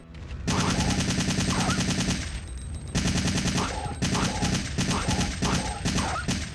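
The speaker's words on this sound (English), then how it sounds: "The Assault Rifle, Resident Evil 3 Nemesis." Rapid automatic assault rifle fire from the video game Resident Evil 3 Nemesis rattles in loud sustained bursts, with a brief pause midway before further volleys of sharp shots.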